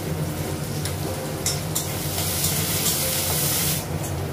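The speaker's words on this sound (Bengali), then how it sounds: "পেঁয়াজটা রসুনটা ভাজা হয়ে গেছে" Onion and garlic sizzle loudly in a hot pan, a continuous crackling hiss with occasional sharper spits and stirring.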